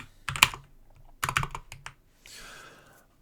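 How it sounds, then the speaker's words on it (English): Computer keyboard typing comes in two quick close bursts of clicking keys, followed by a softer hiss-like rustle, loud and near with no talking. "I am not used to typing with my mic like this."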